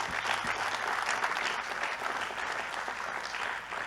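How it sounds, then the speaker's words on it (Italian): Audience applause for the sponsors at the Premio Navicella Sardegna 2021 award ceremony: dense, steady clapping from a large crowd, loud and continuous throughout with no voices over it. "Quindi un applauso anche per i nostri sponsor."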